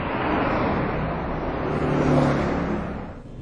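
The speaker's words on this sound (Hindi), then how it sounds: "सड़क पर दौड़ रही तेज रफ्तार गाड़ियों की आवाज" Fast cars rush along a Delhi road at night in a loud, continuous traffic roar, with vehicles passing close and engines whirring. No one speaks.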